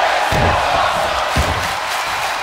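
Crowd noise from a WWE 2K23 tornado tag team match forms a loud, steady roar of cheering, punctuated by two heavy slams near the start and middle.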